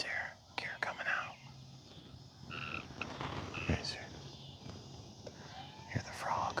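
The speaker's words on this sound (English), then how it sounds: "Hear the frog." A frog croaks in short, scattered bursts outdoors beside a model airfield, fairly faint amid breezy ambient noise and a soft, whispery voice.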